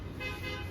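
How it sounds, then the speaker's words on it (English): A neighbor's car horn honks in a short, faint, steady tone from a distance in an outdoor backyard setting. "Got all the neighborhood dogs upset too with their horn honking."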